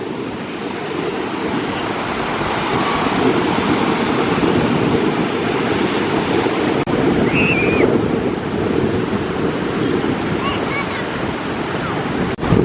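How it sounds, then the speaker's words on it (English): Ocean surf at Folly Beach rolls in as a continuous broad wash of waves, steady and fairly loud, with wind buffeting the microphone and a few faint distant bird calls. "Just watching the waves go in and out and in and out."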